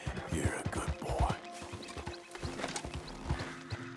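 Horse hoofbeats from the video game Red Dead Redemption 2 make a rapid, close clip-clop rhythm at moderate volume. A faint mechanical rattle runs underneath.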